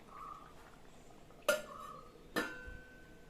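A metal lid goes onto a pot of Trivandrum-style fish curry with two sharp clanks about a second apart, the second ringing briefly, against a quiet kitchen.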